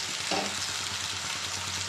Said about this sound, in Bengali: পোস্ত দিয়ে আমি মিনিটখানেক কষে নেব